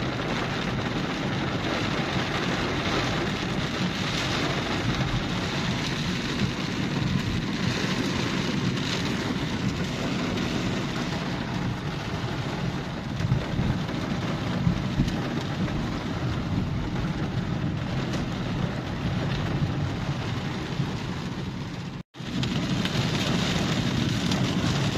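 Heavy downpour in Ryazan, a dense, steady roar of rain close by for the whole stretch, broken by one brief dropout near the end, with no voices.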